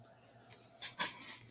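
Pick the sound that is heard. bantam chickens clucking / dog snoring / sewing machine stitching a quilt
dog snoring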